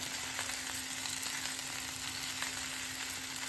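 Steady, faint sizzling of green tomatoes frying deeply in a pan for chutney, a continuous crackling hiss with a low hum beneath and no voices.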